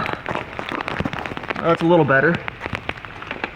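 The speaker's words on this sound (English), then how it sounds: "The rain picked back up again." Rain falling steadily near a bridge where someone shelters outdoors, a dense patter of drops on surfaces throughout, with a person talking briefly over it.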